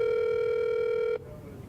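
Outgoing telephone call ringing tone, one steady electronic ring that holds for just over a second and then cuts off abruptly, leaving faint line hiss.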